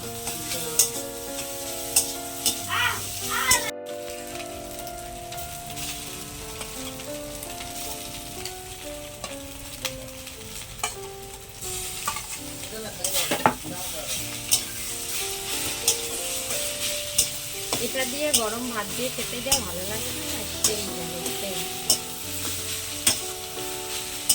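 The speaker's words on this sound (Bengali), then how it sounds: "আলু পেঁয়াজ রসুন দিয়ে ডিমটাকে কষিয়ে নিচ্ছি" Egg frying in a pan with potato, onion and garlic, a steady close sizzle with scraping stirs throughout, under a voice talking intermittently.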